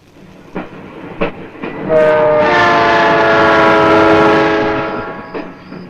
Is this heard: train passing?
yes